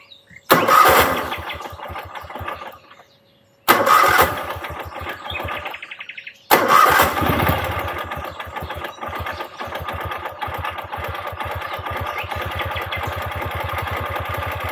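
A Ural sidecar motorcycle engine cranks and catches in three attempts, loud and close: two brief starts that sputter and die, then a third that fires and settles into a steady, throbbing idle.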